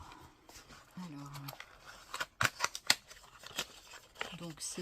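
Scissors snip and crunch through a plastic package of pens in a few quick, sharp cuts, fairly close, with someone talking softly in French between the cuts.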